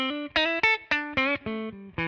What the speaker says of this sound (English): paired up spring reverb